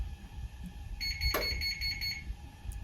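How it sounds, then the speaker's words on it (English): A gas oven sounds a short, bright electronic jingle of repeated beeping tones when preheating is done, faint against a low room hum with no talk. "you know that the correct temperature has been achieved when you hear this jingle here"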